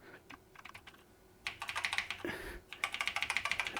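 Keys being pressed one after another on a BBC Master 128 computer keyboard under test, sparse clicks at first and then a quick, steady run of close, crisp keystrokes, with no talking.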